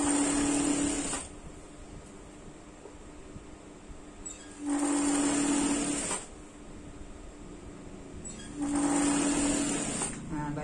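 Sewing machine stitching a garment seam, three loud whirring runs of about one to two seconds each separated by quieter pauses, with a steady whine during each run and background room noise between them.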